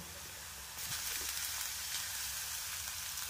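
Onion and finely chopped tomato fry in a pan while being stirred for bombil bhurji, a steady close sizzle that grows louder after the first moment and carries faint scraping of the stirring.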